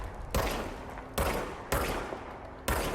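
Four loud, close gunshots from the action game Control land at uneven intervals, each a sharp blast with a lingering echoing tail, with no voices.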